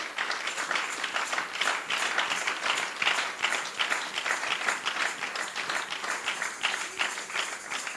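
Congregation applauding inside a church during a worship service, steady dense clapping sustained throughout without a break.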